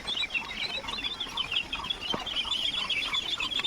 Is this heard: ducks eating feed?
yes